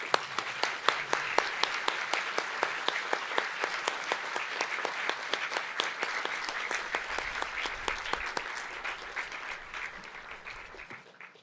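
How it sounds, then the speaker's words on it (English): Standing seniors and guests at a school district graduation ceremony applaud, with sharp individual claps rising over steady group clapping that gradually thins and fades. "Seniors, can you please stand and join me in a round of applause for all those I have just mentioned"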